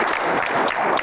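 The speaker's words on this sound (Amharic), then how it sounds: "እሺ አጨብጭቡለት።" A studio audience claps for a contestant on a Saturday afternoon game show, a brief, steady burst of dense applause heard on its own.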